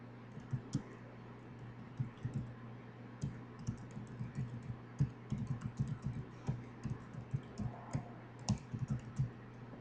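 A product key tapped out on a computer keyboard, quick irregular bursts of light key clicks close to the microphone over a faint steady hum, with no voices.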